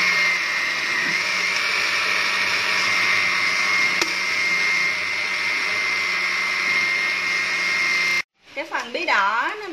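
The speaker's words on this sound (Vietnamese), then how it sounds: "Giờ mình bắt đầu xay nha, xay cho nó thiệt là nhuyễn" Kitchen blender pureeing cooked pumpkin, a loud steady motor whir held for about eight seconds before stopping abruptly, after which a voice speaks.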